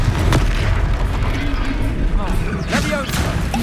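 A Confringo spell explosion in Hogwarts Legacy bursts with a couple of booming impacts amid battle noise, over voices shouting in the fight.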